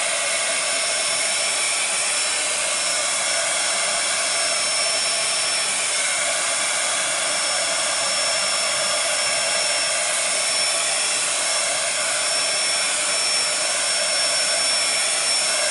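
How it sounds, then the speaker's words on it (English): A hair dryer blows steadily and loudly on a painted galaxy-style card background, a constant broadband whoosh with no talking. "I'm going to go ahead and dry this really quickly. And I'm going to lift it up here to make sure it's as dry as it can be."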